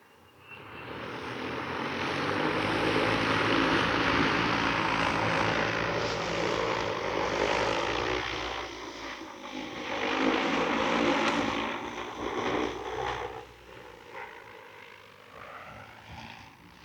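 An agricultural spray drone, either a DJI T100 or an EAVision J150, launches and flies over hilly fields. A loud, steady propeller drone and whine swells and holds for the whole stretch, then eases slightly near the end.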